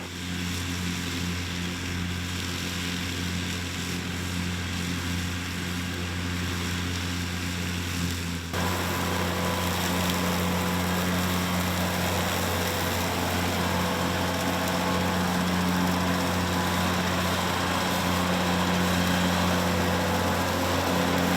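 A front-mount slope mower engine drones loudly and continuously nearby, its pitch and roughness rising partway through as it works.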